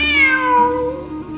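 A single cat meows clearly and close up in Genshin Impact, one drawn-out, falling tone lasting just over a second, heard alone without any talk.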